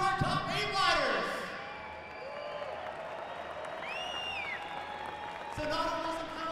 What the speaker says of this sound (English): Denver, how about a round of applause for our top 8 riders?